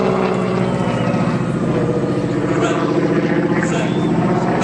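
A loud, continuous radial engine drone from an AT-6 Texan (SNJ) aircraft at an airshow, holding steady and close throughout with a dense, rumbling roar.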